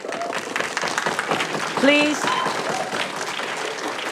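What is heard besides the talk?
audience applauding in city council chambers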